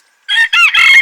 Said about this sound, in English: So there might be a bit of cockerel noise.